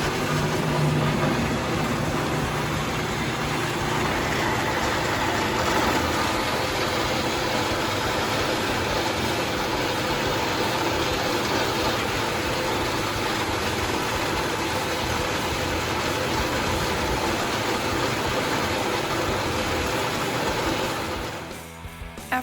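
A piece of steel C-channel being cut for a motor mount, a steady, harsh, continuous roar of the cut holding for about twenty seconds before it winds down at the end.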